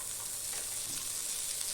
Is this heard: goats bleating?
no